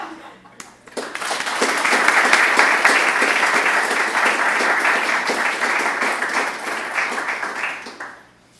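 An audience breaks into loud, sustained applause welcoming a speaker at a talk, the clapping swelling after a second, holding for several seconds, then fading out.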